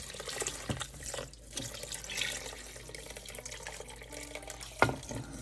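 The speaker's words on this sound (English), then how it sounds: "I'm gonna add about 4 more cups of water or so" Water runs steadily from a tap into a pot of Tuscan ravioli soup for several seconds, a continuous moderate splash with a sharp clink near the end, and no talk.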